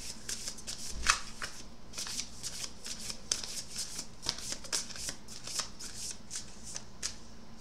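Oracle cards being shuffled by hand, a quiet run of quick papery riffles and flicks repeating steadily at close range, with no talking over them.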